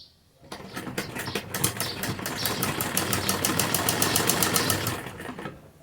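A sewing machine runs in one steady burst, stitching a doubled fabric strip onto a kurti neckline, its rapid mechanical needle rhythm loud and close before winding down.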